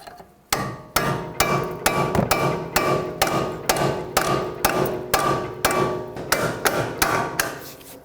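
A strut bolt on a 2007-2010 Chrysler Sebring is hammered flush with a long, even run of around fourteen loud, ringing metal blows, each close and sharp, with no voices.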